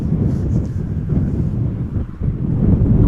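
Wind buffets the microphone outdoors at Amsterdam Schiphol Airport, a loud, continuous low rumble that rises and dips in gusts.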